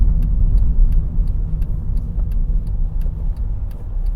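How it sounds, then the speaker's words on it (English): Road traffic moves around a busy roundabout as a steady, loud low rumble heard from inside a car, with a faint regular ticking running throughout. "So let's wait for the traffic to get past and we'll pull out."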